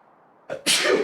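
A single sneeze indoors, a short sharp intake followed by a loud burst, close to the microphone.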